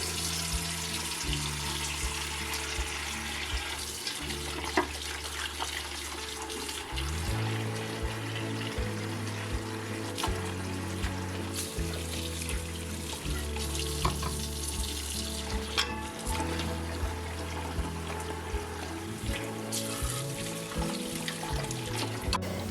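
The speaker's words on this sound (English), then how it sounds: "I go ahead and I wash them with some warm soapy water" Warm soapy water runs from a tap into a kitchen sink while canning jars are washed. The steady rushing flow continues throughout, with music playing underneath.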